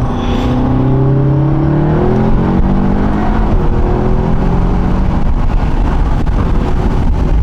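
A Seat car accelerates hard in second gear with ESP in sport mode, its engine note climbing steadily and loudly from inside the cabin, with wind buffeting throughout and no talk.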